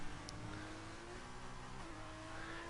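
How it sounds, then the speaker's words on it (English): A Formula 2 race car at a 2019 championship round revs hard while struggling for traction, a faint, distant engine note with whining tones that climb and fall briefly. "Revving the engine completely there, not a fantastic sound to hear."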